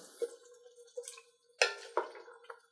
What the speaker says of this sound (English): Right in. Give this a nice stir.